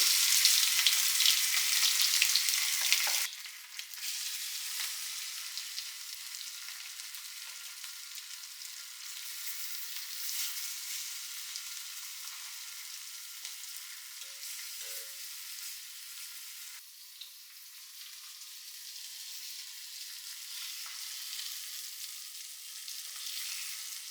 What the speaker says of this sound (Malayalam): ആ പുരട്ടി വെച്ച മസാലയൊക്കെ പുരട്ടി വെച്ച ചിക്കൻ കഷ്ണങ്ങൾ അത് വറക്കൽ. നമുക്ക് വെളിച്ചെണ്ണയിൽ തന്നെയാണ് വറക്കുന്നത്.